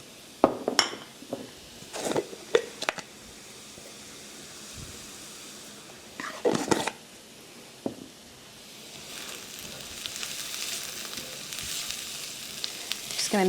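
Meatballs frying in melted butter in a pan, seasoned with salt and pepper, give off a steady broadband sizzle that builds toward the end, with occasional clinks of a utensil against the pan and no talking.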